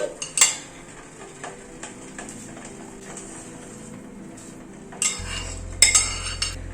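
Rice goes into a saucepan of boiling, salted and oiled water, with scattered metallic clinks and scrapes of a spoon against the pan over a low bubbling hum.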